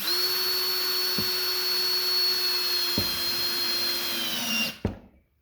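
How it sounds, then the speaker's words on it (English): Cordless power drill driving a screw into the corner of a wooden folding RV step: one steady, loud whirring run of about five seconds, then a brief clunk and the motor winds down to silence. "let's get a screw in the corner here"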